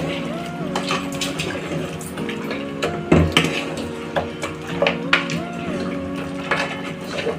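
A spoon works through Telangana-style mutton gravy curry in a pot, with clinks and scrapes against the metal repeating at an uneven pace, close up, while a background tone hums underneath and no one speaks.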